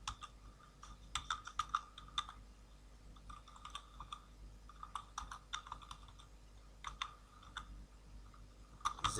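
Quiet keystrokes on a computer keyboard as code is typed, coming in short irregular clusters of light clicks with brief pauses, close but faint against a low background hum.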